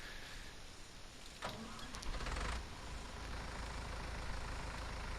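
Small tractor in Farming Simulator 19 running steadily with a continuous engine drone, a brief louder burst in the middle, then settling back to an even hum with no talking.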